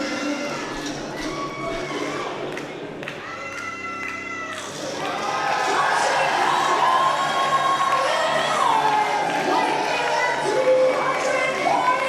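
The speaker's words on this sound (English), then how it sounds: "And already the crowd's starting to stir" A wrestling crowd at a six-man tag team match stirs, with a lull of murmuring before rising into louder, sustained cheering and shouting, while a commentator talks over it.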